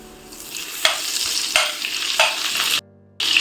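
Cumin seeds crackle in butter and oil in a pan, a bright close sizzle with several sharp stirring scrapes at regular intervals before the sound cuts off briefly and then resumes.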